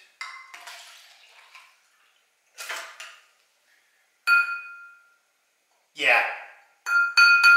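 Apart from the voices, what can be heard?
glass clinking while pouring vinegar into a solo cup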